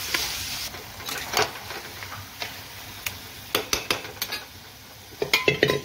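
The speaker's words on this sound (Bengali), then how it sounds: "এবার বাঁধাকপি আর মাংসকে ক্যাপসিকাম টমেটো দিয়ে ভেজে নেব ভালো করে।" Cabbage and beef frying with capsicum and tomato, heard as sharp metal spatula clinks and scrapes against the pan in irregular bursts, denser toward the end, over a faint background sizzle.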